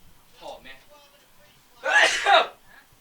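A single sharp sneeze from a player in the dugout at a college softball game, loud and close, following a couple of faint breathy sounds.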